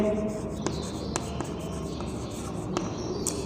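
A pen scratches quickly across paper or a board as a math solution is written out, short strokes and taps at an irregular rhythm, close and steady.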